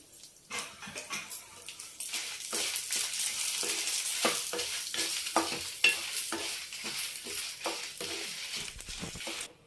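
Dried red chillies fry in a single drop of oil for a spicy tomato chutney, stirred with steady crackling sizzle and scraping spoon clatter, close and continuous.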